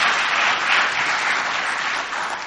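An audience at an Alcoholics Anonymous regional roundup in Kingsport breaks into applause: a dense, continuous wash of many hands clapping, loud and even, fading slightly at the end.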